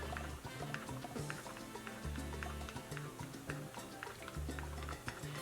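Acrylic paint being stirred with pouring medium, about three parts medium to one part paint, giving soft, repeated ticking and wet scraping taps of the stirrer against the cup in an uneven rhythm, close and quiet.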